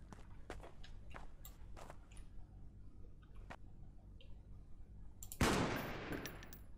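Rifle gunfire in the sci-fi shooter game Freeman: Star Edge: a loud, close, sharp burst of shots near the end, after several seconds of faint clicks and distant background game sounds.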